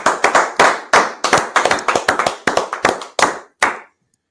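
Group clapping at a gathering, a loud close burst of rapid, uneven claps that thins out and stops.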